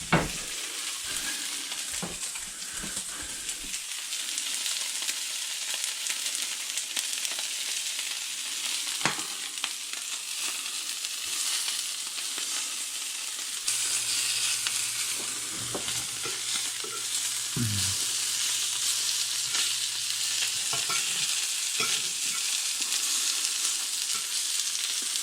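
Pieces of Atlantic bonito fry in a hot pan with a steady, close, bright sizzle that continues throughout, with a few soft clicks and bumps as pieces are placed and moved.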